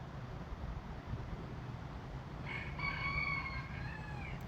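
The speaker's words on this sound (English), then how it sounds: "Hear the rooster?" A rooster crows once, a loud drawn-out cock-a-doodle-doo from a short distance, rising over steady outdoor background noise during a neighborhood walk.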